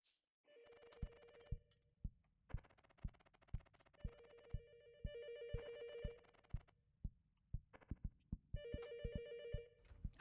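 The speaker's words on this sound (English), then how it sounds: "I'm surprised that they let Maya actually answer the phone." Telephone ringing in the video game Love Eternal: repeated electronic bell rings in several bursts over a steady rhythmic low thumping beat, moderately loud with no talking.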